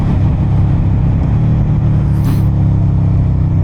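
A 2023 Suzuki SV650 motorcycle engine drones loudly and steadily while riding through clutchless shifts, with strong wind buffeting over it from the rider's position and no talking.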